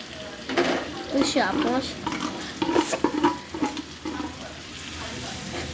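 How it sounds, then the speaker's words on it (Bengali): Spices, onion and chilli are stirred together in a frying pan over a steady low sizzle, with scraping strokes of a utensil against the pan coming in quick uneven bursts, close by. "এরপরে একসাথে সবগুলো মিক্স করে নিচ্ছে।"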